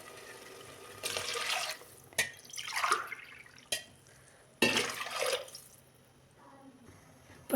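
Water is poured from a glass onto washed rice for cooking in a pressure cooker, in two splashing bursts separated by quieter pauses and a few drips and knocks.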